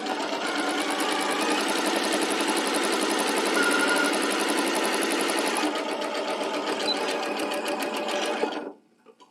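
A sewing machine stitches a table runner seam with a fast, even rapid-fire chatter for about eight seconds, then stops abruptly, with no talking.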